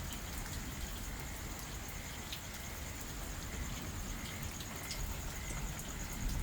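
Steady pre-monsoon rain pours during a strong storm in Pothwar, a dense, even hiss of drops on surfaces throughout, with faint scattered taps and no voices.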